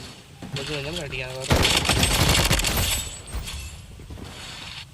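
Rapid gunfire bursts from the shooter video game Blood Strike, loud and close, starting about halfway through with a dense rattling volley that tails off, while a voice talks over the game earlier.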